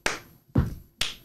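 A person imitates a folk song's clap-and-stomp rhythm with three sharp, close percussive hits, evenly spaced about half a second apart, one of them deeper like a stomp.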